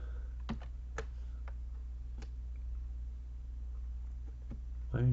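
A handful of scattered key clicks tap out in an otherwise quiet room, ending with a louder burst of clicks.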